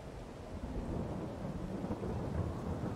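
Rolling thunder in the farming game Landwirtschafts-Simulator 22, a low sustained rumble with a hiss like rain over it, moderately distant and steady for a few seconds, no voices.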